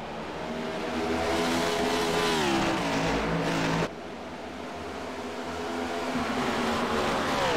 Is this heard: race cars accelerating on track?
yes